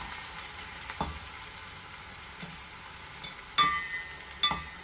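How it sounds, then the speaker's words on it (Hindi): Sliced green chillies and garlic fry in oil, giving a quiet, steady sizzle with several sharp clinks of a utensil against the pan. "उसी के अंदर अब ये ग्रीन चिलीज जो स्लाइस करूँगी ये ऐड कर दूँगी और उसको भी हल्का सा फ्राई करके निकाल लूँगी"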